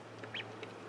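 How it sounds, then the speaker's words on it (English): Small ducks quacking in a quiet indoor space, three short faint quacks spaced across under a second over a low steady hum. "They're seriously the cutest little ducks."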